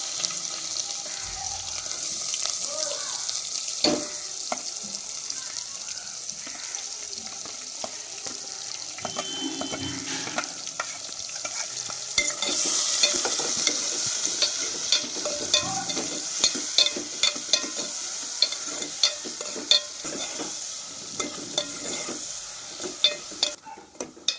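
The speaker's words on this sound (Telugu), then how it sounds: "ఉల్లిపాయలు పచ్చిమిరపకాయలు అయితే వేసుకుంటున్నాను" Onions and green chillies fry in hot oil in a pan, sizzling steadily with a bright hiss. A spoon stirs them and scrapes the pan again and again, with scattered clinks and a faint watery background.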